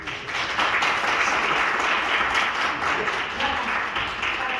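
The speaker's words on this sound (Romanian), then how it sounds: "aplauzele pentru tine!" A conference audience at Webstock 2021 applauds steadily, a dense, loud wash of many hands clapping that holds without a break from start to finish.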